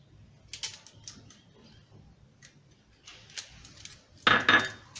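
Onions and other ingredients go into a mixing bowl, making scattered light clinks and taps against the bowl, with a louder clattering burst near the end. The sounds are close and fairly quiet, with no talking.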